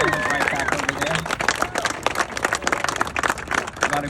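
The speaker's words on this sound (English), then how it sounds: "So I want you to give a warm round of applause for Jen and Ryan." An audience claps in a dense, continuous burst of applause at a grand opening ribbon cutting, with crowd chatter and voices mixed in.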